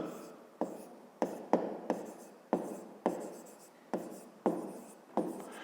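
Chalk or marker strokes on a classroom board: a rapid series of short scratchy taps, roughly a dozen crisp strokes with quick decays, close and distinct without talk.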